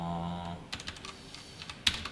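Code being typed on a computer keyboard, a quiet, close run of light clicks in an uneven rhythm with one sharper tap near the end, following a short fading tone.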